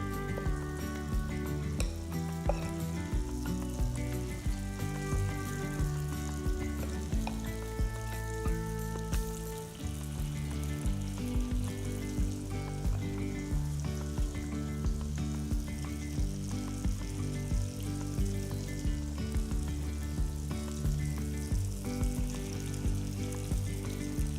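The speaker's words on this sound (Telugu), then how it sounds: "ఒక గరిటెతో పిండిని తీసుకుని ఇలా నూనెలో వేయాలి" Kara appam batter fries in hot oil in a pan, a continuous bright sizzle sitting beneath loud, steady background music for the whole stretch.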